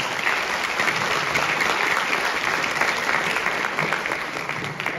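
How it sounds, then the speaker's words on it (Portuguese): A live audience at a hypnosis show claps in a dense, continuous wave of applause that stays steady and fills the room throughout. "palmas para os nossos astros"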